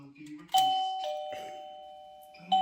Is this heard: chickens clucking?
no